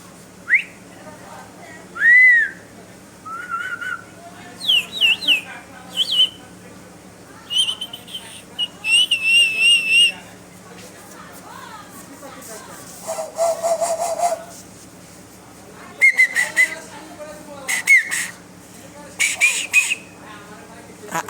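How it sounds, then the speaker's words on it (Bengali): A man plays a bamboo flute in short, high, thin melodic phrases that come in separate bursts with pauses between them, close to the listener, over a low steady background hum. "আমি বাঁশি বাঁশি বাজাইতে পারি অনেক পদে"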